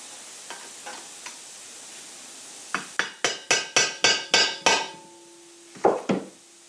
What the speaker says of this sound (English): we're just gonna take a Torx and just hammer it in a little bit so it sticks